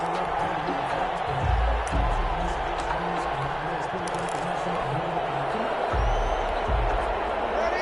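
A football stadium crowd cheers and roars steadily as the Packers' defense holds, with a commentator talking over it throughout.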